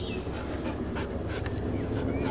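A big hairy dog pants quickly and steadily up close, with a faint whimper, over a constant background hiss.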